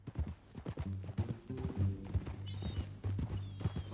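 Horse hooves clop in a steady, uneven rhythm from the video game Red Dead Redemption 2, moving close and clear with low thuds. A soft whinny-like tone rises faintly near the end.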